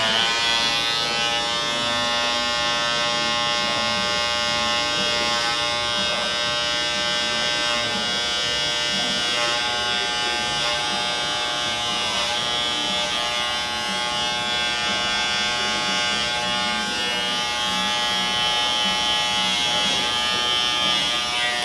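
A metal cordless Indies TI trimmer buzzes steadily and loudly while lining up a bald fade haircut with detachable blades, a continuous close-up electric hum without pause.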